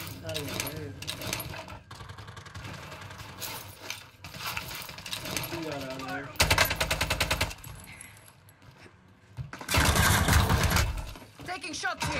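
Gunfire from Call of Duty Warzone on Rebirth Island comes as rapid automatic bursts, with two dense, loud volleys later in the clip, mixed with game sounds under frequent talking.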